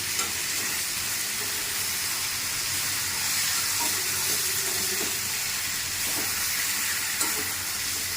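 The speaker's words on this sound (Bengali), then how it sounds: "মাংসটি কষানো হয়ে গেছে, মশলাগুলি কড়াই লেগে লেগে যাচ্ছে" Chicken and masala frying in a kadai give off a steady, close hiss and sizzle, with occasional faint scrapes of stirring and no voices.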